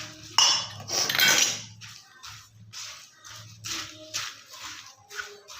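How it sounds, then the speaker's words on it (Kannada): Spoon mixing puffed rice churumuri, North Karnataka style, in a metal bowl: close, irregular scraping and clinking strokes in quick bursts with short pauses between them. "ಇವಾಗ ಈ ಥರ ಚಮಚಲೆ ಮಾಡ್ಕೊಳ್ಳಿ, ಯಾಕಂದರೆ ಬಿಸಿ ಇರ್ತದಲ್ಲ ಅದಕ್ಕಾಗಿ ಚಮಚಲೆ ಮಾಡ್ಕೊಳ್ಳಿ."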